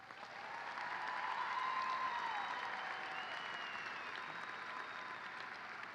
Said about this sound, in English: I think that deserves a massive round of applause.